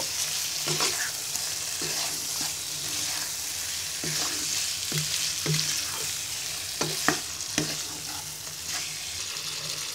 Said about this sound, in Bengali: বাইন মাছটাকে সব মশলার সাথে ভালো করে নেড়ে মিশিয়ে নিব